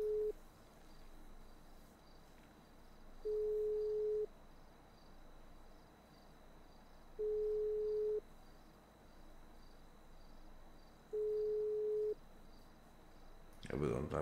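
Phone call ringing tone in a GTA roleplay game: three evenly spaced, steady electronic beeps of about a second each, repeating every four seconds over a quiet background, with a brief burst of noise at the end.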